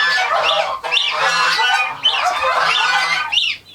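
Chicks in a brooder peep and cluck in a steady, busy chorus, close and loud, with several birds calling over one another throughout.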